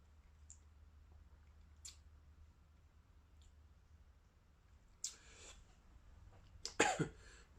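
Someone coughs after tasting Amrut Madeira cask finish whisky, a pair of quiet, close, throaty coughs near the end after faint mouth clicks and near silence.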